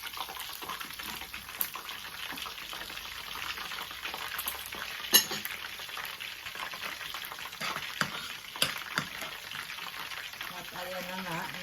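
Lechon kawali pork frying in a pan, a soft continuous sizzle with scattered pops and crackles and occasional clinks, faint and close, with some quiet talking.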